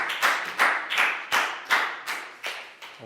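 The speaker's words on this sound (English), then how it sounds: "big round of applause for Nadia" A classroom of Year 4 pupils claps for a student, a quick run of about eight distinct bursts of hand claps in a loose, steady rhythm, fairly close, with no talking over them.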